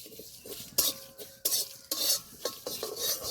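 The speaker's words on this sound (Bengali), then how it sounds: "জিরেটাও ভালো করে ভেজে নেব" Cumin seeds and dried red chillies being fried and stirred in a pan while cooking a Bengali fish curry, with close, repeated sharp scrapes and clinks of a spoon against the pan over a faint sizzle, and no talk.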